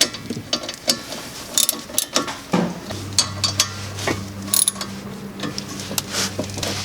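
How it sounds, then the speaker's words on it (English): A ratchet with a 13mm socket tightens a bolt on the rear brake of a 2006-2013 Chevrolet Impala, a run of close metallic clicks and clanks over a low steady hum, no voices. "Back to the 13mm socket. Like I said, make sure it's on, tighten first."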